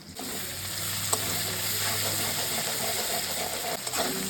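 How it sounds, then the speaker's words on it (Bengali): A steady, crackling sizzle of spice paste frying in a hot pan, close up and continuous, with a low mechanical hum underneath. "এদিকে মশলাটা ভাজা হোক"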